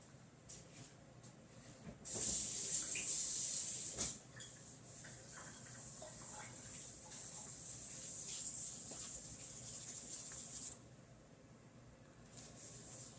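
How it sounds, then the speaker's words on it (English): A tap runs while hands are washed at a sink during a soap-making session, a steady bright hiss of water that swells for about two seconds, then continues softer and more broken before easing off. "Wash my hands right quick."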